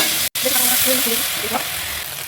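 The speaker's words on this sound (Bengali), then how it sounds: "এরপর ভালো করে ভেজে নিয়ে এই যে আদা আর রসুনটা ছিল সেটা দিয়ে দিলাম" Ginger and garlic frying in a pan, a bright, steady sizzle with a brief gap near the start and a faint voice murmuring underneath.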